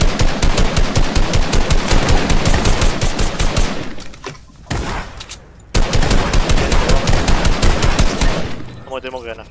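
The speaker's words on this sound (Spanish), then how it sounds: "Ojo, disparos por acá" Rapid automatic gunfire in a video game rattles loudly in sustained bursts, pausing briefly twice before resuming, with a ringing metallic tail at the close.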